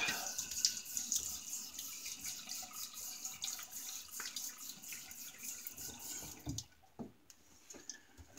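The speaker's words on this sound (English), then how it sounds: "let's get a rinse here and get some stuff cleaned up" Tap water runs steadily into a bathroom sink while a Clark's Silver King razor is rinsed after a shave, with splashing and brief interruptions as the blade passes through the stream.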